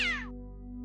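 A cartoon cat in the game Day of the Tentacle Remastered lets out a single short meow when pulled, a sliding, high-pitched cry over a steady low musical drone.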